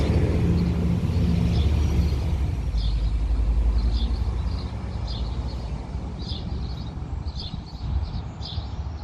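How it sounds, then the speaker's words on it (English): An empty bus passes along a street on an evening walk, its deep engine rumble loud at first and then slowly fading, with scattered bird chirps above it. "And there we have a bus coming."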